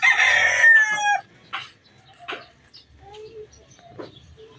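A rooster crows loudly and close by at a chicken farm, a single strained call lasting about a second, followed by quieter scattered clucks and distant farm sounds.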